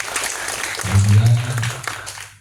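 Audience claps at a Garda Walisongo installation ceremony in Banyuwangi, a broad wash of applause that builds midway and tapers off, accompanied by a low droning hum and a voice over the crowd.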